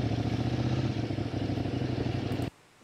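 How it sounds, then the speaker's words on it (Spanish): A Kove ADV 800 motorcycle with a 270-degree crank parallel-twin engine of nearly 100 horsepower runs close up with a steady, lumpy throb, then cuts off abruptly near the end. "¿Escucháis el ruido? Esto es un motor con calado 270 grados."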